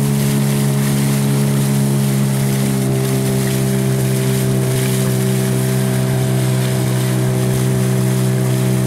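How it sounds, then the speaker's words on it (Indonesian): Fishing boat engine idling steadily near a river bank at Kali Cokel, a continuous droning hum with a strong low tone and constant loudness throughout, no voices. "kapal nelayan yang sedang merapat"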